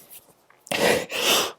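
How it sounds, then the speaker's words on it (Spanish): A person sneezes during a lecture: a faint intake of breath, then two loud, close, breathy bursts. "el estornudo"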